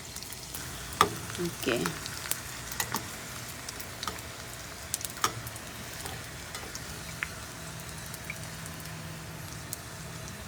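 Thin danggit, dried fish, fries in a pan over low heat with a steady, quiet sizzle, broken by a few sharp clatters and pops early on as it is stirred, while a voice speaks briefly.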